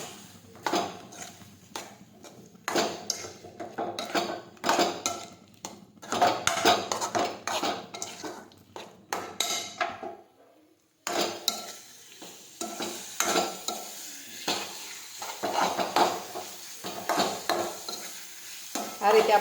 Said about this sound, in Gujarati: આ રીતે આપણે સાતળતા જવાનું છે.